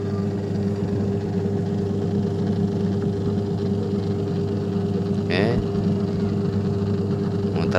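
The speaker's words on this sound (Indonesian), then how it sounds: "Kita tes, nyalakan." A Polytron PWM-7056 washing machine with a freshly fitted V-belt, whose wash section had failed to spin, runs with a steady, close motor hum, broken by a short rattling clack partway through.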